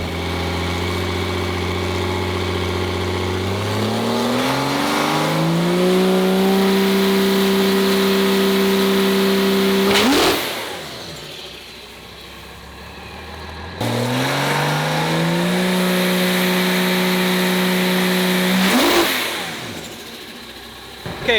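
A drag race car with a torque converter revs up on the starting line and launches, its engine climbing in pitch to a loud roar before cutting off, then doing the same again; loud and close, with no talking.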